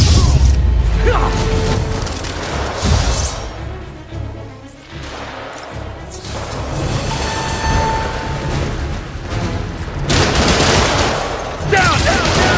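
Enemy gunfire rattles in Marvel's Spider-Man, with loud bursts and volleys of shots and booms over a few seconds, mixed with clanks and combat noise and shouting voices.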